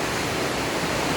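Heavy rain pours down in a dense, steady hiss that fills the short stretch without a break, close and fairly loud with no voices.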